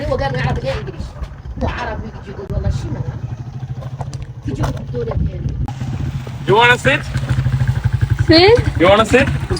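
A motorcycle engine idles and rumbles steadily throughout in a Saharan desert village in Mauritania, a low continuous drone with people talking over it at close range.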